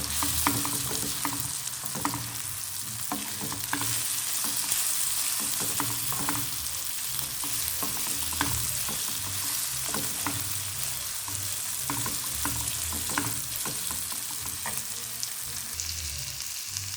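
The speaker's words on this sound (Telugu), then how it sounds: "ఇప్పుడు మనం కట్ చేసుకొని పెట్టుకున్న ఈ కందనకాయ ముక్కలు కూడా వేసుకుందాము. వీటిని ఒకసారి కలుపుకుందాం." Chicken gizzard pieces fry in hot oil in a pan while being stirred, a steady close sizzle broken by frequent scraping and clinking of the spoon, with no talking.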